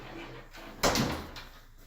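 A double door to a laundry room in a rental house swings open, giving a single loud, broad rush of movement that fades over about a second against quiet room tone.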